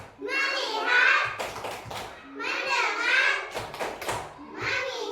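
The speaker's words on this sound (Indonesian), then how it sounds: "Oke, tepuk fokus." Bursts of rhythmic hand claps from an Indonesian classroom 'tepuk fokus' focus-clapping routine, falling between a chanted voice leading the pattern, close and moderately loud.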